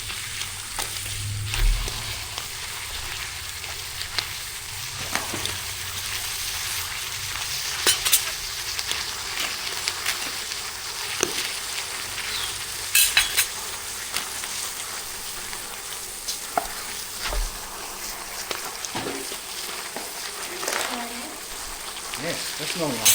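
Beef mince frying in a pan, a steady crackling sizzle heard close up, broken by occasional clinks and scrapes of stirring, with a voice speaking intermittently over it.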